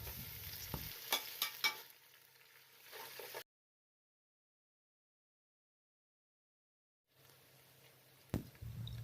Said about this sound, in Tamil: இப்போ புதினாவை ஆட் பண்ணி நல்லா வதக்கி விட்டுக்கோங்க.